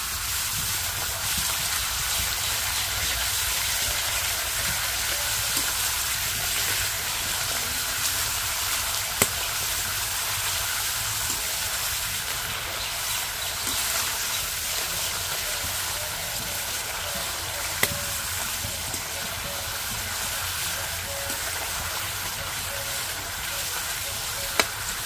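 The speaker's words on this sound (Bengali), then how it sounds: "তেল খুব ভালোভাবে গরম থাকবে, সেই সময় আলুগুলোকে দিয়ে ভালো করে ভাজতে হবে।" Potato slices deep-fry in very hot oil for crisp chips, a steady dense sizzle and bubbling hiss running unbroken and close throughout, with a few faint clicks of utensils.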